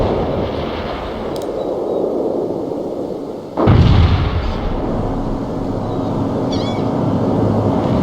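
Mortar artillery fires in the World in Conflict war game: one loud, sudden blast booms out midway through, its low rumble trailing off under a steady battlefield din, with a faint radio-like chirp or two around it.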